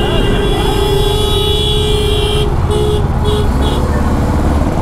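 Busy road traffic heard from a motorcycle on the way to Ladakh, with a steady engine and road roar and a few short car horn toots near the end.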